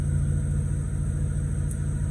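A warmed-up Mazda Renesis 13B rotary engine idling steadily, with a continuous close, even rumble and no talk.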